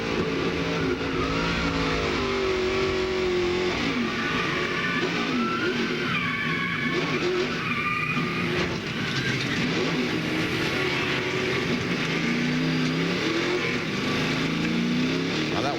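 NASCAR Busch Series stock car from 2000, heard from a roof camera during a crash: the engine roars at full throttle under loud, sustained tire skidding and squealing, with rising and falling engine pitch throughout.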